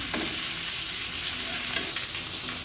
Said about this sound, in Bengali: মাছগুলি লাল লাল করে ভেজে নিচ্ছি